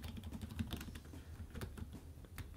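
Typing on a computer keyboard with quick, irregular bursts of clicking keys, close and fairly quiet, continuing steadily with brief pauses and no voices.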